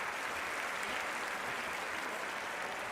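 A crowd applauds at a swimming event in a video game, a dense, steady wash of clapping that runs close and loud for the whole few seconds with no voices.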